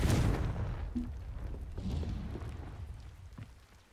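A Confringo fire spell cast in Hogwarts Legacy bursts with a loud, heavy boom that rolls into a rumbling, crackling fiery tail, fading slowly over several seconds.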